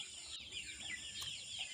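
Two-month-old native chicks peep and cluck softly in a steady high-pitched chatter, kept in a small veranda pen bedded with rice husk.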